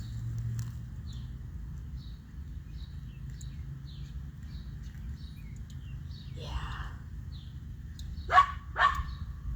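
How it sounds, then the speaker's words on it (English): A dog barks twice in quick succession near the end, fairly close, over a steady low hum and background chatter, with a brief breathy sound shortly before. "Until Concho barks"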